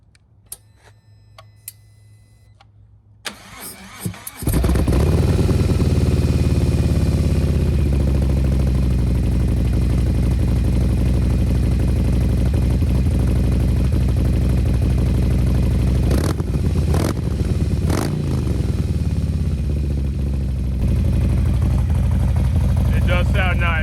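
After a few clicks and a quiet spell, a Harley motorcycle engine fires up and settles into a loud, steady rumbling idle with occasional revs.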